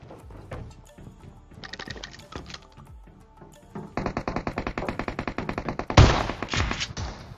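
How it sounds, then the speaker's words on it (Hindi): Gunfight in a mobile battle-royale shooter: scattered shots and thuds at first, then from about four seconds a loud, rapid automatic burst of evenly spaced gunfire, ending in a sharp blast and another dense volley. "अब भाई यहाँ पे गन फाइट हो"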